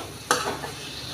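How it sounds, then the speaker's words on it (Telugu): A spoon stirs fenugreek and brinjal curry frying in a pan. One quick scrape is followed by a soft, steady sizzle with no talking. "కలుపుకొని ఒక 5-6 నిమిషాలు 10 నిమిషాల వరకు శుభ్రంగా వేయించుకోవాలండి."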